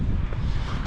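Steady wind buffets a microphone, a low rumbling roar with no other sounds, lasting under a second.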